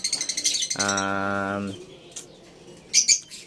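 African lovebirds in an aviary, with close chirps, a sustained harmonic call, brief fluttering, and sharp chirps near the end.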